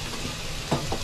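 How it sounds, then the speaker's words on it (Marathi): Capsicum fries in a pan at home with a steady, moderate sizzle, broken by a couple of brief clicks or stirring knocks near the end. "शिमला मिरची फ्राय करायला ठेवली."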